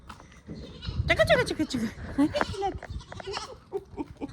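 High, wavering bleats from young goats nearby, several overlapping calls mixed with a person talking.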